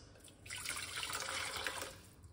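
Hot water splashes into a large cup in a steady pour lasting about a second and a half, close and moderately loud, with no talking.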